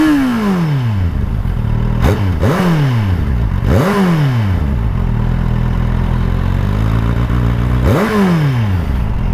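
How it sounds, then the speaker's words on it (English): A 2016 Kawasaki Z800 ABS motorcycle engine drones loudly and close, rising in pitch with each rev and dropping as gears shift, several times over steady riding noise. "the exhaust doesn't sound quick like the throttle feels"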